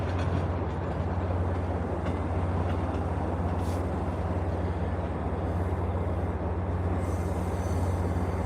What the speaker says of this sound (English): This train will stop at Forest Hills and continue on its way.